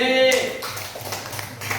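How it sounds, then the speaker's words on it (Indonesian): Classroom audience gives group D a short round of clapping, distinct taps after a brief spoken line, with voices underneath. "Beri tepuk tangan buat kelompok D."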